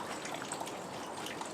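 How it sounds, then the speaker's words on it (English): Spring water trickling through a woodland at Alderley Edge in Cheshire, England, a soft continuous dribbling wash with faint drips, steady and fairly quiet throughout. "You have these springs of water running through."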